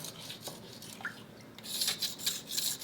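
A razor blade scrapes gunk from the wall of a small planted tank in short, faint rasping strokes, quiet at first and then a few brisker scrapes close by.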